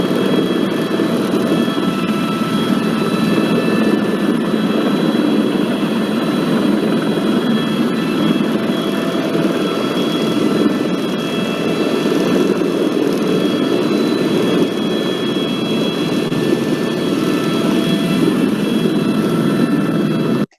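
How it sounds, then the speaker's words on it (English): A loud, steady helicopter roar with whirring rotor and engine drone as it lands on a cruise ship, continuous and close throughout, no voices. "This is me landing back on the ship."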